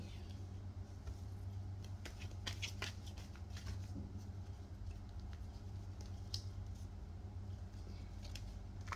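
Tarot cards shuffled by hand for a reading, a quiet, close riffling patter of repeated soft flicks and slides with no talking.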